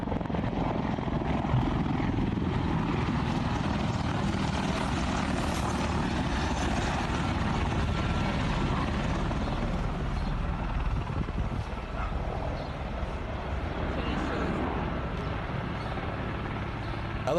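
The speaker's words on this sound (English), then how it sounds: "Helicopters in the sky." Helicopters flying overhead produce a continuous broad rotor roar and rumble that stays loud and steady throughout, with faint indistinct background sounds.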